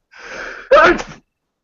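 One close, sharp sneeze with a short breathy inhale leading into the loud burst, then silence.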